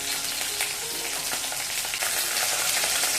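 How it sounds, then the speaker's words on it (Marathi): Green chillies sautéing in a pan, with a dense, continuous crackling sizzle and light stirring, heard up close with no one speaking. "आता मिरची थोडी परतून घेऊया आपण."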